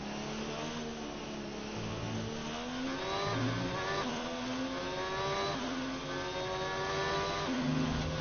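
A Formula 1 race car engine in a career mode racing video game, revving high and continuously with pitch rising and falling through gear changes, steady and moderately loud with no voices.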